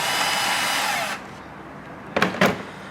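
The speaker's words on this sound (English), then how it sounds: "loosen this hose clamp with an 8mm socket" A power tool fitted with an 8mm socket loosens a hose clamp on the air intake boot of a 6.0L Chevrolet/GMC truck; a steady whir runs about a second, then stops, followed by two short bursts.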